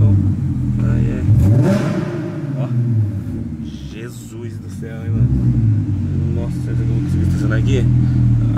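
A car engine revs and rumbles while parking inside a parking garage, the droning mid-pitched growth rising and easing under almost continuous talking by people in the car.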